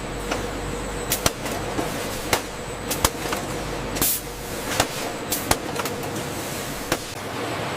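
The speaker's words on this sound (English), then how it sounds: "As the nitrogen flushing systems inject the inert gas, the valves pulse briefly." A nitrogen flushing system in a frozen peach dessert factory injects inert gas under a steady hiss of machinery, with sharp, brief valve pulses and pops recurring irregularly about a dozen times over eight seconds.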